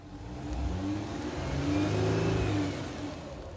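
A Lexus GX 470 off-road SUV revs hard on dry off-road terrain with ordinary tyres, its engine note swelling and holding steady at high revs, loud and close with no talk.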